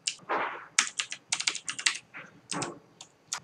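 C code being typed on a computer keyboard during a programming lesson: a brisk, uneven run of close key clicks in short bursts, with brief pauses between words and no talking.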